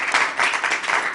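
Brief burst of applause from a television studio audience welcoming a guest, a dense close patter of many hands clapping, loud and steady.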